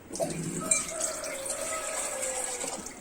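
Water runs steadily into a batter for jeera plantain appam (fried Kerala snack) for about three seconds, a soft continuous trickle close by, with no talking.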